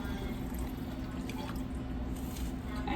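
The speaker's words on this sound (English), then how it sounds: "I add a little bit more water" Water is poured into a pot of rice while Mexican fried rice cooks, a steady, fairly loud liquid rush that runs unbroken throughout with no talk over it.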